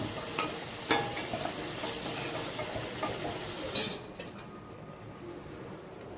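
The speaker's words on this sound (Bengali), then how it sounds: "আমার আলুগুলো ভাজা হয়ে গেছে আমি তুলে নিচ্ছি" Potatoes fry in hot oil with a busy, close sizzle while a utensil scrapes and clinks against the pan, lifting them out; a louder clatter comes near the end, after which the sizzling drops away.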